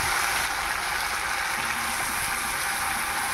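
A spice mixture of panch phoron, a little onion, mustard, green chili paste, salt and turmeric fries in oil, producing a close, steady hissing sizzle that holds evenly throughout with no talking.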